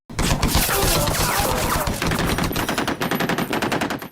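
Heavy machine gun fire rattles in rapid bursts, loud and close, with sharp repeated cracks and dense fusillade continuing for several seconds.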